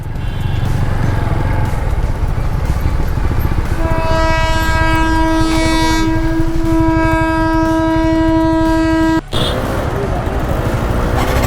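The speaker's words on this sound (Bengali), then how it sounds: "বিষ্ণুপুর রেলগেট।" A train passes a railway crossing at Bishnupur, a loud close rumble running throughout while the horn blares for several seconds mid-pass.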